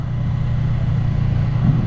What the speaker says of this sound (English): Why did I go behind this big ass semi?